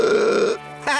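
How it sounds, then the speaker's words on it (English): A cartoon character lets out a huge, drawn-out burp that is loud and close, followed by a brief vocal squeak or grunt at the end. "before letting out a huge burp"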